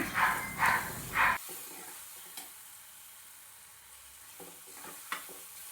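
Carrot with turmeric and coriander fries in a pan, opening with three loud scraping stirs of a spoon, then settling into a faint, steady sizzle with occasional soft clinks.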